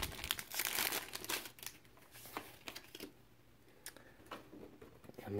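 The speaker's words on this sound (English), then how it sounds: "Let me get the cards all shuffled up here, nice and good." Pokémon Shining Legends trading cards being shuffled by hand, a close, soft, continuous papery riffling and crinkling with small ticking clicks and no talking.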